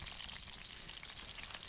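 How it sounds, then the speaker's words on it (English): Light rain sprinkles outdoors in near-freezing mid-30s weather, making a soft, steady hiss of fine drops falling on surfaces, faint and even throughout with no voices. "it's not a terrible rain, but you know, we're in the mid-30s and it's kind of a sprinkle"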